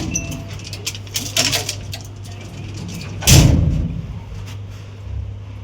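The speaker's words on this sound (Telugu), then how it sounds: "Please close the door." A vehicle door thuds shut once with a loud, close bang, heard over a steady engine hum and some faint background chatter.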